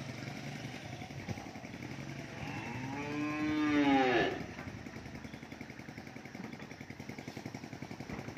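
Cattle bellow a long, rising moo near the microphone while being delivered by truck in Vietnam, rumbling engine noise continuing throughout underneath.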